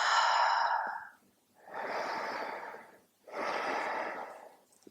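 Three slow, deep breaths during a standing figure-four yoga stretch, each a long audible inhale or exhale close to the microphone separated by brief quiet gaps, no talking.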